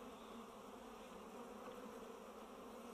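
Honeybee drones on hive frames in a queenless colony, a dense continuous buzzing hum at close range, steady and even with no voices.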